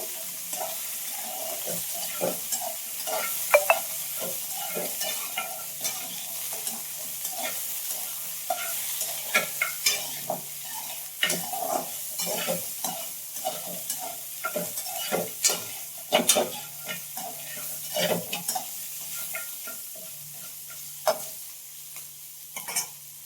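Mutton fries in oil with a continuous low sizzle as a utensil repeatedly scrapes and knocks against the pan in irregular stirring strokes, close and moderately loud, with no voices.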